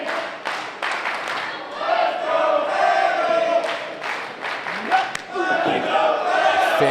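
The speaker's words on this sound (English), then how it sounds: "half an O'Reilly chant, half a Gibson chant as they exchange blows in the center of the ring" Wrestling crowd in the Casa Loma Ballroom roaring and chanting the names O'Reilly and Gibson, split between the two, loud and continuous with bursts of cheering.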